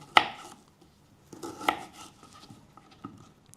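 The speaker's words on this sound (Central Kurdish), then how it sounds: "پیازەکان بەو شێوازەی وردەکەین نامەوێت زۆر وردبی" A kitchen knife chops onions on a cutting board, left somewhat coarse rather than finely minced. A few sharp, well-spaced chops ring out close by, with soft handling sounds between them and no talking.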